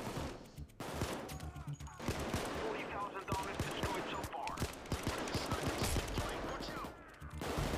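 Gunfire in the video game Payday 2, bursts of rapid shots and scattered single cracks throughout, fairly quiet, with people talking over it.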